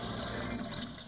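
A toilet flush rushes loudly and steadily as water drains, a continuous close gush throughout the short moment.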